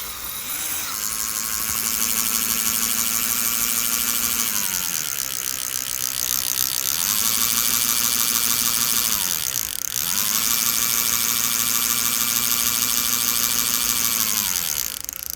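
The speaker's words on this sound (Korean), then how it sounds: "아무래도 드랙 소리가 좀 달라요." Drag of a Kreman A9 ultralight baitcasting fishing reel, 140 g with 9 kg drag, with the drag tightened slightly, buzzing in a steady high-pitched whir that rises and dips in pitch over several pulls, close and continuous.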